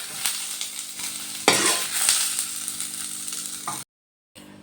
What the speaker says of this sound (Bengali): পেঁয়াজগুলো তো আমি হালকা করে ভেজে নিলাম। এবার আমি পেঁয়াজগুলো তুলে নিচ্ছি।